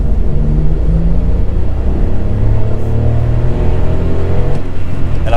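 A Skoda Citigo's 1.0-litre 75 hp engine hums loudly and steadily from nearby, its pitch slowly climbing as it accelerates, with road rumble underneath.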